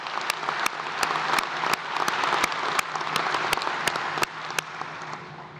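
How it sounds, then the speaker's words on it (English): An audience at an award ceremony applauds steadily for several seconds, a dense wash of clapping with a few sharp individual claps standing out, tapering slightly at the end. "Please join me in one more round of applause for our Outstanding Faculty Award recipients."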